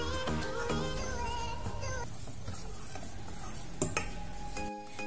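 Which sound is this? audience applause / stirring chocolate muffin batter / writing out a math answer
stirring chocolate muffin batter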